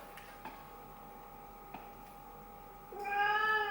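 A cat gives one clear, fairly close meow near the end, rising out of a quiet indoor room. Before it there are only a few faint ticks and light handling noises.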